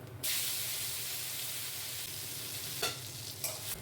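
Spice paste frying with nigella seeds in oil: a steady, close hiss and sizzle that flares as the paste goes in, with a few brief stirring scrapes near the end and no talking.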